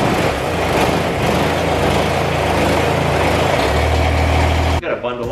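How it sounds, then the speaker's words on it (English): A tractor engine idles to warm up on an 8-degree winter morning, a loud, steady, close rumble that drops away abruptly near the end. "Need to get the tractor warming up so we can use it."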